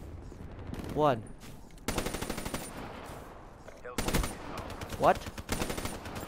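Automatic gunfire rattles in a first-person shooter video game, coming in several short, loud bursts separated by brief pauses, with a player talking over the action.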